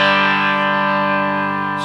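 Electric guitar run through a heavily distorted pedalboard with its volume at 10, holding one loud, saturated chord that rings steadily for about two seconds with no talking.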